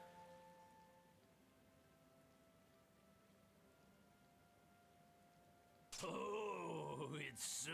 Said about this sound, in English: Why does it have to be raining,